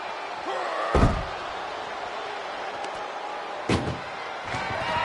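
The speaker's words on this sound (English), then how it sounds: "If they can slam this door shut, it's over." An ambulance door in the WWE 2K24 wrestling game slams shut twice, each a sharp heavy bang about three seconds apart, standing out loudly against a constant roar of arena crowd noise.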